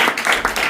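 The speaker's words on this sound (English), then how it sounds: "Please give him a round of applause." A round of applause from an audience at a public speaking event, with steady close clapping from many hands filling the short burst.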